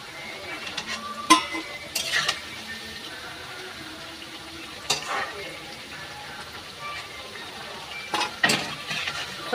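Jackfruit kofta balls fry in hot oil with a soft, steady sizzle, broken by a few sharp clinks and scrapes of a utensil against the pan.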